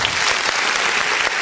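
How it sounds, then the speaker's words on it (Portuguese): Church congregation applauding at the start of a Sunday family service, a dense, steady wash of many hands clapping close and loud throughout, with no talk over it. "Vamos aplaudir o nome do Senhor."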